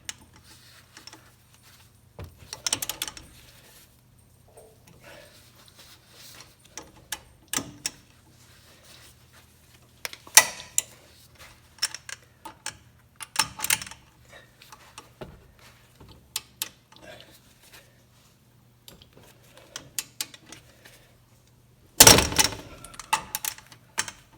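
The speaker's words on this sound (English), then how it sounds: "you're going to want to torque these to 136 foot-pounds" A torque wrench with an 18mm socket tightens brake caliper bolts on a 1997-2003 Ford F150, giving scattered sharp ticks and clicks in irregular bursts with quiet gaps, ending in a louder clatter.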